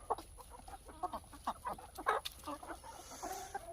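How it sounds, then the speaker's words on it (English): A hen in a backyard coop at a food forest clucks in short, soft bursts, with several quiet clucks spread through the clip and faint bird calls in the background. "Look at that chicken."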